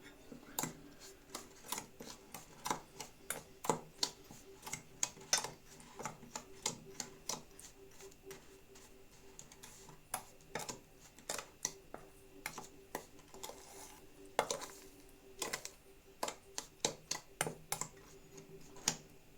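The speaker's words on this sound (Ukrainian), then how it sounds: "зараз розмішаємо" Irregular quick scraping clicks of a utensil against a bowl repeat steadily, close and fairly faint, as cocoa sponge batter is stirred and mixed.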